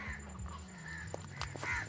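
Several birds call at a distance in a Sundarbans forest, short harsh cries scattered over a low background hum, with faint movement nearby.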